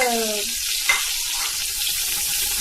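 Onions sizzle steadily in a hot pan for an Algerian sweet-savory prune tagine, a continuous bright frying hiss with a faint clink near the start and no talk.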